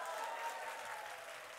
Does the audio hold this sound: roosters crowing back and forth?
no